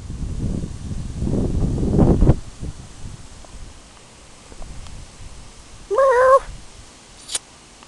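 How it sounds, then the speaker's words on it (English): A cat meows once, a short clear call standing out after some rustling and handling noise, followed by a quick faint chirp. "Hi, Kitty"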